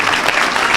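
A church congregation applauds in a dense, steady burst of clapping that fills the short moment, close and lively without pauses.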